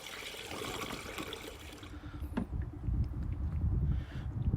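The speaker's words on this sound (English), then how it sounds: "We can hear that gurgling in there." Coolant gurgling and trickling into a car's cooling system as it is topped up with a 50-50 mix, faint and close, with soft bubbling that grows steadier and louder toward the end.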